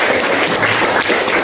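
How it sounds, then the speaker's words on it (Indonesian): Applause from a classroom audience during an Islamic religious education lesson, a steady dense patter of many hands clapping throughout, fairly loud and close, with no talking over it. "Ya, tepuk tangan lagi."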